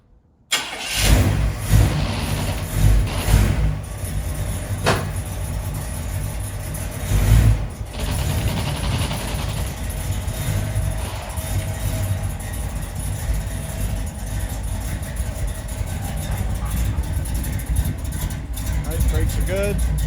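A 1964 Chevrolet Impala started after sitting for a year, its engine cranking and catching, then running in a loud, steady, rough idle with a few revs, while a person talks over it.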